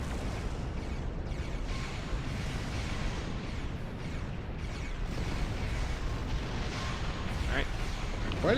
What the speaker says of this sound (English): Why do they have disruptor cannons anyway?